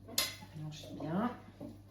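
Spoon stirring a Christmas jam mixture in a metal pot, with several scraping and clinking strokes against the pan, close and fairly loud, under light speech.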